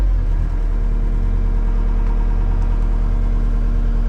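A 2016 Case skid steer idles while still cold, a steady low diesel rumble with a constant hum, loud and close, unchanging across the whole stretch with no talking over it.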